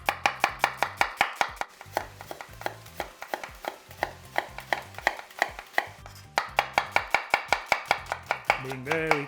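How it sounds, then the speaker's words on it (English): A knife slices onions on a board in quick, even strokes, each one a sharp, close tap. The steady rhythm runs throughout, with a short pause partway through before the chopping resumes, and there is no talking. "we're going to slice these onions"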